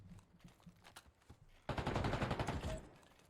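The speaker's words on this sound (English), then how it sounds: "Just cooking with that SMG in hand." Submachine gun fire in an esports shooter match: a few scattered shots, then a dense rapid burst for about a second and a half, fairly faint and with no voices.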